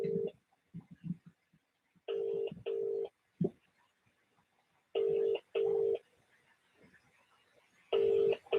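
A telephone rings back on the caller's end in repeated paired ring tones, each pair followed by a pause, with a faint murmur of talk between the rings.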